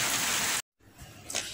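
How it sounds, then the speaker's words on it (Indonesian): Rain falling outside in the morning, a steady broadband hiss that cuts out abruptly for a moment, then returns more quietly and swells again toward the end. "suasana di luar, wow, hujan yang keren"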